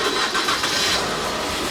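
A wrecked Infiniti Q50 twin-turbo engine starts, a brief broadband roar with a rising rush that holds steady, loud and alone.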